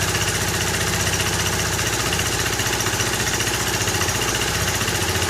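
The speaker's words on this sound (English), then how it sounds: "So it's in idle mode, but it's idling on its own." A vintage 1960s Honda E300 generator engine idling steadily on its own, a continuous loud mechanical chug with a fast even rhythm throughout, no voices.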